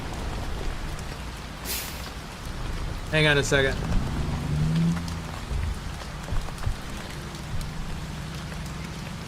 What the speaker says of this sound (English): Yeah, this rain's really loud.